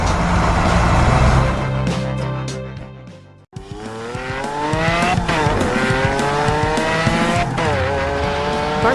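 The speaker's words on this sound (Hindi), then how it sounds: "यह हरा मॉन्स्टर ट्रक अपनी साहसिक यात्रा पर निकला है" A green monster truck races along a snowy road in a cartoon, its engine roaring loud and continuous with rising and falling revs and squealing tires, broken by a brief cut midway.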